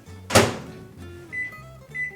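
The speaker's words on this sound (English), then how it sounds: "All right, into the microwave" A microwave oven door shuts with one sharp, close thunk, then the oven hums softly and gives short electronic beeps while buttons are pressed in a home kitchen.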